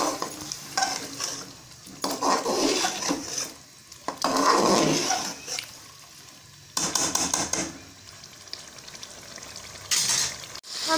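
Chicken being stirred with yogurt in a frying pan for Mughlai chicken, giving bursts of scraping and sizzling in uneven spells with quieter gaps, close and fairly loud, with no talking.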